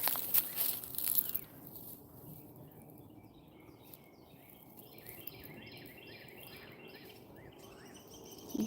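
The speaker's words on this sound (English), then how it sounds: "You hear those birds?" Small birds chirp faintly and repeatedly from a distance in quiet winter woods. Some rustling, footstep-like noise comes at the start.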